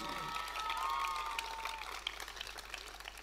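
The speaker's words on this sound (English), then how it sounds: "these students are cheering for Tal Azran because he just happens to be a great guy" Students at a Dean's List award ceremony cheer and applaud in a steady, fairly faint crowd wash, with a few whoops rising above the clapping.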